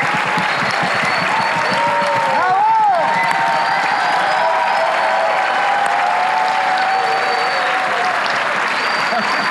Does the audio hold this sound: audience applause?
yes